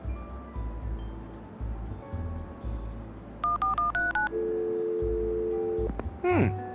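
Telephone keypad tones dialed in the Leisure Suit Larry video game: a quick run of distinct DTMF beeps, then a long steady tone and a falling electronic chirp, over a low rumbling game background.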